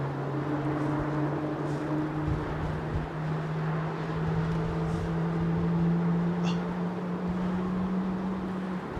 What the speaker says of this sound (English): It's the unmistakable sound of a GE90 firing up